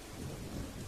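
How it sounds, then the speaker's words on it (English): Steady rain with rumbling thunder, a continuous storm wash of drops and low rolling booms filling the whole second at a moderate level. "Then rain begins."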